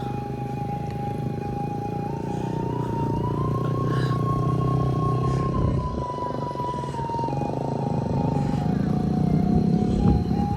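A motorcycle labours along a steep off-road mountain road near Bukit Gandum, Alahan Panjang, after rain, its engine droning steadily up close and rising slightly in pitch mid-way, with no talk over it.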